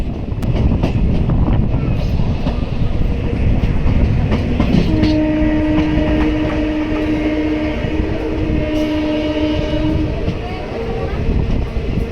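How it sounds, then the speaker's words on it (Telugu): A train moves on the line near Nandyal station with a loud, steady rumble and clatter of the wagons, and a sustained horn-like tone comes in partway through; people talk faintly in the background. "ఫ్రంట్ వచ్చేసి ట్రైన్ నంద్యాల స్టేషన్కి అయితే ఎంటర్ అవుతుంది"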